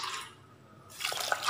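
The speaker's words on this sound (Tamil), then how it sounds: "ஒரு 4 டம்ளர் தண்ணி விட்டுடலாம்." Water is poured from a tumbler into a pot of mutton breastbone soup, a splashy, bright gush that breaks off, falls quiet, then resumes with small splashes.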